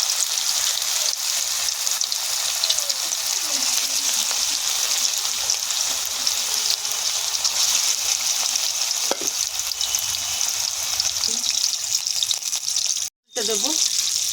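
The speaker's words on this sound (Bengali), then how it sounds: "এবার আমি এক এক করে দিয়ে দেব। এগুলো একটু ধিমে আঁচে ভাজবো।" Chicken tikka kebabs fry in hot oil over low heat, giving a steady, close sizzle that continues throughout, with a few soft stirring or shifting sounds.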